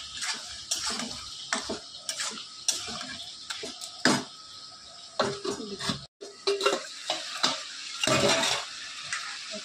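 A spoon stirs food in a cooking pan, with repeated irregular clanks and scrapes of metal, a short pause, then more brisk knocks and rattles up close.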